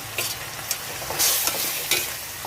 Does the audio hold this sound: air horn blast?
no